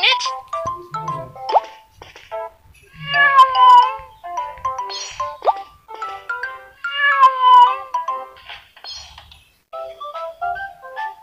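Cartoon cat meowing in a Babybus kids' number game, a series of bright, tonal mews and plopping game sounds in a busy sequence, with a child-like voice speaking in between.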